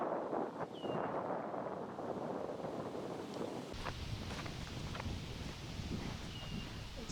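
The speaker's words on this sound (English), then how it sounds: "It's quite windy." Gusty wind rushes across the microphone on an open disc golf course during a women's pro tournament round, a steady rumbling roar that strengthens partway through, with no talk.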